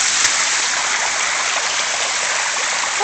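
Steady broadband rush of a stream of cold running water tumbling toward a waterfall, loud and close, constant and unbroken across the whole moment with no voices.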